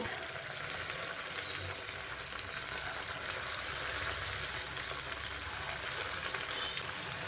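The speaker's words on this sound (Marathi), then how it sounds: "त्याला ब्राऊन कलर येईपर्यंत, खमंग होईपर्यंत तळून घ्यायचे आहेत" Poha and potato bhaji fritters frying in hot oil over a low gas flame give off a steady, dense sizzle that stays even and close throughout.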